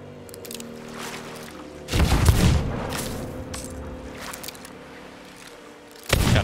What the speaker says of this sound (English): the cannons are shooting at the megalodon